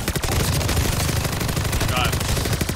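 Dense, continuous automatic gunfire from Call of Duty Vanguard Zombies, loud and close, rattling without pause through the whole stretch.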